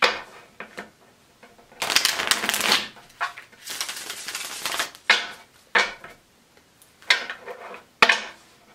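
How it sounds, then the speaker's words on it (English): Tarot cards are shuffled in repeated bursts, riffling and sliding close up, with short pauses and soft taps between each round. "I like to shuffle like this."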